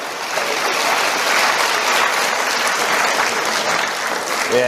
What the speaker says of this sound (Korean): 서로 박수 한번 치고 다 함께